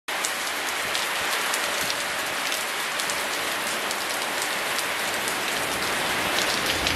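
Steady, dense rainfall on Nusa Ceningan, Bali, pattering on a surface, continuous and fairly loud throughout with no voices.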